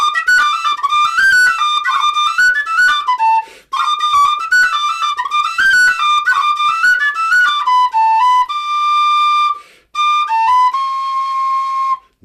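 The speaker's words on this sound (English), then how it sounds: "all of Simon's whistles are very responsive, especially these pistachio ones" A Weston pistachio wood tin whistle plays a lively tune, bright and loud in the room, with quick ornamented notes and two brief pauses before ending on a long held note.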